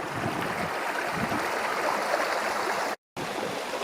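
A Dartmoor brook rushes and burbles steadily nearby around granite blocks crossing the stream, a continuous watery hiss that cuts out briefly near the end.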